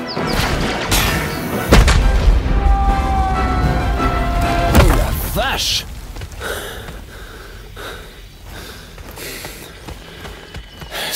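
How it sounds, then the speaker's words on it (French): A heavy explosion booms in Outcast 2, with a loud low-end blast and crashing debris, followed by a lingering rumble and scattered smaller thuds as the noise settles. "avons repéré une explosion sur les capteurs thermiques"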